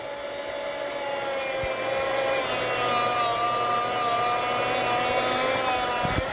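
A Chefs Choice 610 electric food slicer hums steadily with a whirring motor drone and a faint grinding edge as it slices through a block of cheese, continuous and close with no pauses.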